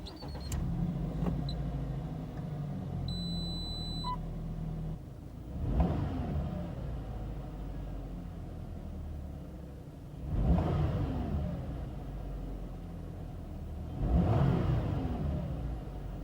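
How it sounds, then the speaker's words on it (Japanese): Subaru Impreza Sport engine idling as heard from inside the cabin, a low steady hum with three distinct revs that swell and fade, preceded by a starter sound and a few small clicks and chimes. "今回はエンジン始動からの音だけをまとめてみました。"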